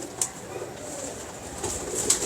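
Pigeons from a Lahore loft in Model Town coo and stir softly, with low cooing and occasional sharp bright clicks over a steady hiss of ambient noise.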